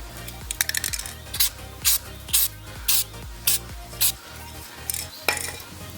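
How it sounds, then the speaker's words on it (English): Short hissing bursts of lube sprayed onto a motorcycle chain, repeated about ten times in a quick, regular rhythm, with light metallic clinks mixed in at the start. "I also spray it quite liberally."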